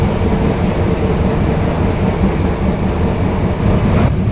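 Airport rail link train running between Minangkabau Airport and Duku at moderate speed near Padang, heard from inside as a steady, loud rumble of wheels and car noise with faint rattles throughout.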